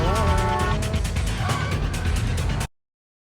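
A taxi rushes past in a Fast & Furious street-drifting scene, its engine and tyre noise blending with a dense film soundtrack and voices before cutting off abruptly.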